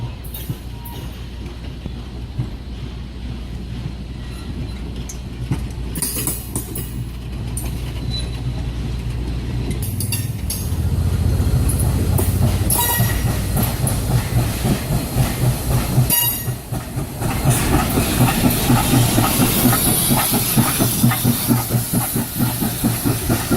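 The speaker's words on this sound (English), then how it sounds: "We catch 142 slowly pushing the train back to Phillipsburg." Locomotive 142 slowly pushes a passenger train, starting with a low idling rumble and steam hiss, then growing into steady loud engine drone with rhythmic clickety-clack of wheels over rail joints.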